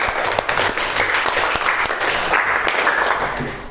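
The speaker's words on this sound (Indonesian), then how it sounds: "Beri tepuk tangan untuk Mas Nizar." Applause from a classroom audience for a student named Nizar, a dense burst of many hands clapping steadily for about four seconds at close range, with no talk over it.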